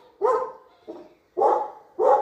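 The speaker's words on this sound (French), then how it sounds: "ce chien assoiffé de sang, qui en a après un pigeon, je crois" A dog barking at a pigeon, with four short, fairly close barks in quick succession, the second one softer, and no other sound.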